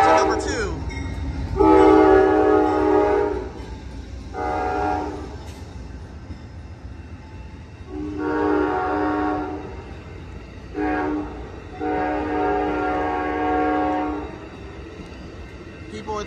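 An Amtrak Coast Starlight train led by P42 locomotives arrives at Oakland Jack London Square, its horn blowing several long blasts over the rumble of the approaching train.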